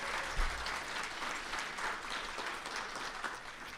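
Guests at the STEMmys awards ceremony applaud together, a sustained, even roar of clapping from a large room, fairly distant and soft.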